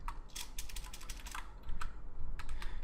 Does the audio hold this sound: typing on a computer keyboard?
yes